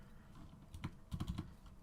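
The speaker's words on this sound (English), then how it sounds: "this is how loud my keyboard is." A handful of quick keystrokes clatter on a loud computer keyboard, faint and close, in two short bursts with a pause between.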